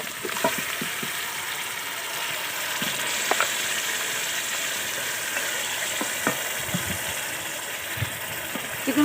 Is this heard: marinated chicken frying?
yes